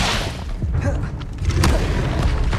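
An Incendio fire spell cast in Hogwarts Legacy, a whooshing burst of flame followed by low booming rumbles, loud and close.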